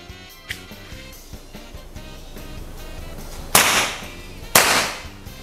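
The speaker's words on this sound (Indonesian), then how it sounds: "penembak kedua berhasil menembak tepat sasaran" Two sharp, loud shots from air rifles ring out about a second apart at a shooting competition, each one cracking and then dying away over a background of music.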